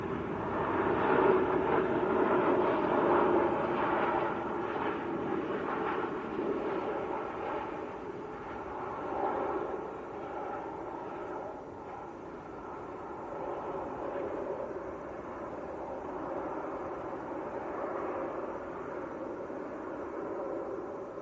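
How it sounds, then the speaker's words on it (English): A KLM Boeing 737-900 airliner from Amsterdam passes at Manchester Airport, a broad, steady jet roar that swells early on, dips, then builds again, heard at a distance without any talking. "It's KLM from Amsterdam, a 739 900 series."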